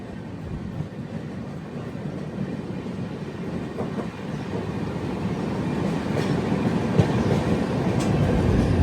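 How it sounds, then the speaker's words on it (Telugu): The Telangana Superfast Express from New Delhi to Hyderabad Deccan rumbles past with a steady rolling roar and faint clickety-clack of wheels, building gradually louder as it nears. "న్యూఢిల్లీ నుంచి హైదరాబాద్ డెక్కన్ వెళ్ళే తెలంగాణ సూపర్ ఫాస్ట్ ఎక్స్ప్రెస్"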